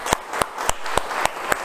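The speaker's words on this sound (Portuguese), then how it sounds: "Nós vamos levantar um aplauso para ele," Congregation clapping in unison inside a church, six sharp, evenly spaced claps ringing out loudly over a low room hum.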